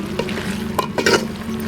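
Turmeric powder is stirred into sautéed tomatoes and onions in a pan for idli sambar made without dal. A spoon scrapes and clacks in short strokes over a steady, close sizzle.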